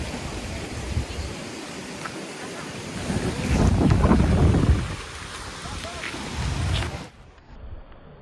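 A Troy passenger ferry passes on the water near a river mouth, its engine rumble and wash swelling in the middle and fading, under steady wind buffeting the microphone.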